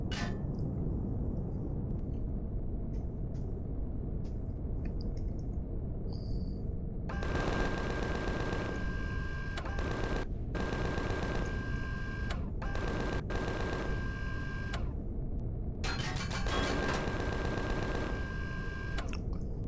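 Enemy gunfire in the Empyrion Galactic Survival game, arriving in bursts of rapid automatic shots against a steady background rumble, with quieter pauses between volleys.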